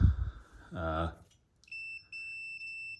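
A brief voice fades out, then a multimeter's continuity tester gives a thin, high electronic beep twice, steady tones separated by a tiny gap, as its two probes touch.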